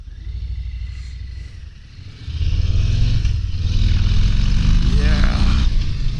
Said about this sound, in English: It's the roar of taking off.